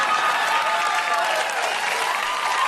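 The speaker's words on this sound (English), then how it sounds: "it was the crowd cheering" A theater crowd applauds and cheers loudly and continuously, dense clapping with whoops on top filling the whole stretch at steady volume.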